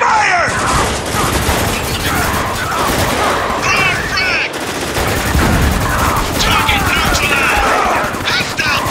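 Sustained gunfire in the video game Spec Ops: The Line, a dense loud fusillade of rapid automatic shots filling the whole stretch, with shouted voices mixed in.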